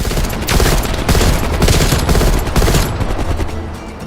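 Enemy machine gun fire in Call of Duty Black Ops Cold War, loud, rapid sustained bursts of gunshots with brief gaps, close and harsh, with no talk over it.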